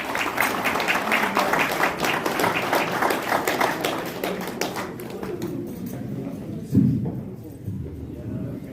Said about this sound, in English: Can we stand for him once and then give applause for him,